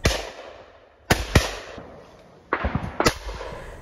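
Shotgun shots at a sporting clays range: several sharp, loud blasts ring out in two pairs, each followed by a decaying outdoor echo, with no talking.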